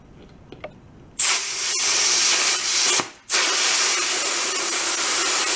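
Air hisses steadily into a tire on a junked Suzuki four-wheeler, a loud close rush that starts abruptly after a few light taps, drops out briefly midway, then resumes and continues without talk.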